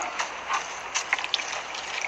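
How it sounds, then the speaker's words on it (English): Water pouring into a bottle in a soil erosion experiment, a steady, soft stream with a few brighter splashes and trickles, close by and moderately quiet. "So I'm pouring the water in."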